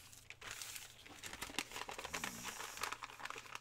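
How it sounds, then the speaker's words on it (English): A paper bag being folded up at the bottom gives soft, close crinkling and crumpling rustles, irregular and quiet, with no talking. "You can go ahead and fold this bottom part up just so you can see."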